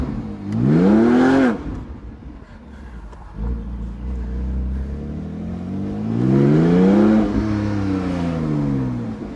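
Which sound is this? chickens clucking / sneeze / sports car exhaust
sports car exhaust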